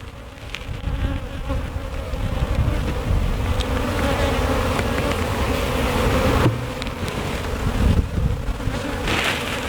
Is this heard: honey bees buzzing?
yes